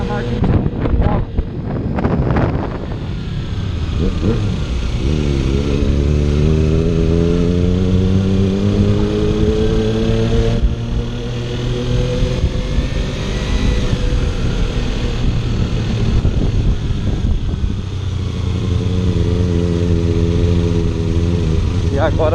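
Motorcycle engines drone steadily on the ride back from a motorcycle meet in Mombuca, loud and continuous with heavy wind buffeting the microphone, rising and falling in pitch as gears change, while a rider talks over it.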